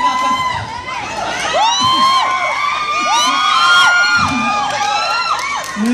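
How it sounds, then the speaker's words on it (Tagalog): An excited audience at an album launch shrieks and cheers continuously, with many high-pitched overlapping screams and whoops rising and falling in a loud, dense crowd roar. "Ang tili niyo parang gold star lang ako."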